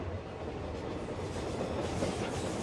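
A passenger train on Mexico's Copper Canyon railway rolls along the rails with a steady rumble and faint rhythmic clatter, constant and close throughout.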